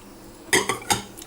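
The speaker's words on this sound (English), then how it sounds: "Give that a quick stir." A spoon clinks against the sides of a bowl while stirring pancake batter: three sharp, bright knocks in a quick, uneven rhythm, close and clear.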